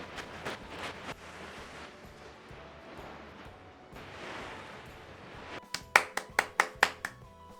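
Sharp, close hand claps burst out in a quick series of about seven near the end, after a stretch of softer, low-level background noise.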